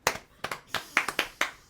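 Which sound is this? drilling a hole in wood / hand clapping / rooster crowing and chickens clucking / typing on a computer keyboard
hand clapping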